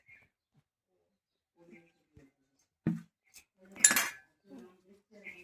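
A metal wok is set down on a kitchen stove with a single clear clank, followed by a brighter metallic clatter and a few faint clinks in a quiet room.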